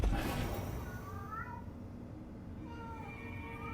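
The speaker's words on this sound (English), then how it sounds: "cat is freaking out." An agitated cat meows in a few rising, drawn-out cries, faint and somewhat distant, spaced over a quiet indoor background.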